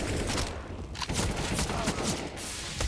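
Rapid pistol gunfire in the video game CS:GO during a professional match on the Inferno map, several sharp shots clustered over dense game noise.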